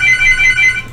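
A home telephone rings with a steady high electronic trill, loud and close, lasting about a second with no voices.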